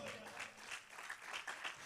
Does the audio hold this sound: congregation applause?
yes